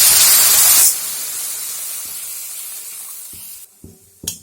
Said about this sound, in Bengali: এখন আমি ভাতের ফ্যানটা দিয়ে দিব।